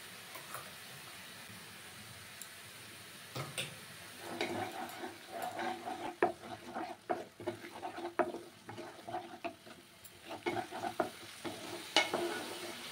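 Spice paste of dried red chilli, bay leaf, whole cumin, whole coriander and tomato frying in a pan for a Bhola fish curry, with a steady sizzle and irregular scraping stirs that grow busier after a quiet start.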